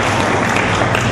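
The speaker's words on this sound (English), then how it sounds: "That one must clap lah." A crowd at a political speech on Penang's development breaks into steady, full applause, loud and close throughout the short clip.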